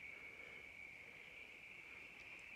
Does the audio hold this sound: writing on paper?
no